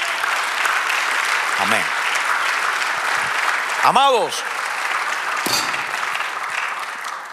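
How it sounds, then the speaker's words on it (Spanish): Church congregation claps during a sermon, a continuous wash of applause filling the room while a preacher's voice speaks briefly over it, the clapping tapering slightly at the end. "Dame un aplauso, Señor."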